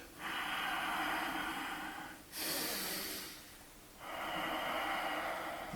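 Slow, deep breaths during a core exercise, a long audible exhale through the nose, a short sharp inhale, then another long exhale, close and loud without talk.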